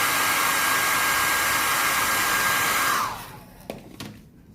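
Hair dryer blowing hard and close on wet paint over a plaster piece, a loud steady roar that cuts off after about three seconds, followed by a couple of soft handling knocks.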